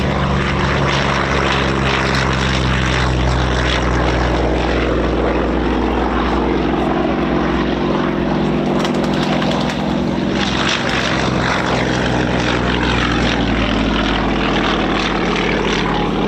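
A vintage propeller aircraft begins its takeoff roll at the East Kirkby airshow, its engines droning loudly and steadily close by throughout, with crowd noise underneath.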